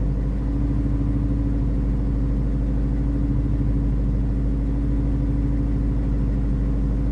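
A Mustang GT V8 idles steadily close by, a deep continuous rumble with a slight lope, its revs drifting gently up and down without any talk over it.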